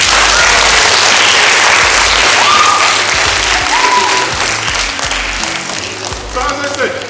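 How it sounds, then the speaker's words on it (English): A large school audience in Birmingham applauds loudly and continuously, the clapping holding strong before easing slightly toward the end, with a few voices mixed in. "Round of applause for Andrew."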